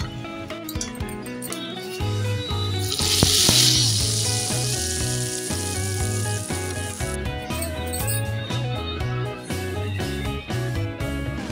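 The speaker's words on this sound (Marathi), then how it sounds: "आता आपण ही फोडणी घालूया चटणीत." Hot Marathi tempering (phodni) is poured into chutney and bursts into a loud sizzle that swells then settles into steady crackling under background music, with no talking.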